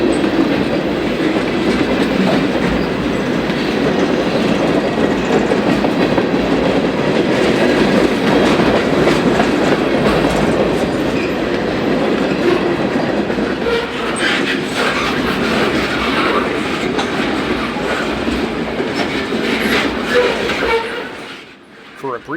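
A long 110-car eastbound freight train rolls past on the Chicago Fort Wayne and Eastern on a Sunday, a loud, continuous rumble with rail clatter that holds steady for a long stretch before trailing off at the very end.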